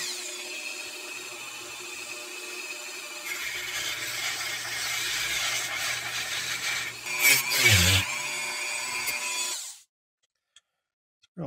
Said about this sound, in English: Our old friend the Dremel.